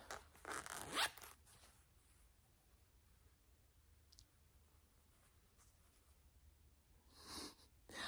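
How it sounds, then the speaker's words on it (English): A zip on a handmade sewn bag is pulled open in a short, close, raspy zipping burst near the start, followed by near silence and then another brief zip sound toward the end, with no speech. "When you open up this zip"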